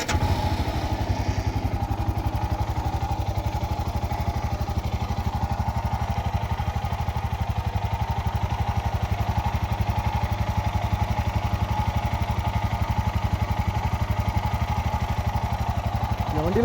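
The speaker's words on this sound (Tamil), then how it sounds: "இந்த வண்டியை ஸ்டார்ட் பண்ணி காமிக்கிறேன்." A Royal Enfield Scram 411 motorcycle idles in a steady, loud, even throb that runs the whole stretch without pause, with no talk over it.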